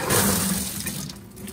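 Water and pressure gush from an opened water heater drain valve through PVC pipe into a bucket, a loud, close, hissing splash lasting about a second and a half.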